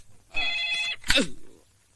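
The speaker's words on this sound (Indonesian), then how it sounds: "Teleponnya berbunyi." A telephone bell rings in two short trilling bursts, fairly quiet and close, in an Indonesian-language story scene.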